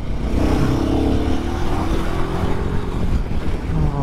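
A motorcycle engine pulls steadily up an incline on a ride toward Pulicat Lake, droning loud and close with a slowly rising pitch, mixed with wind rush and no talking.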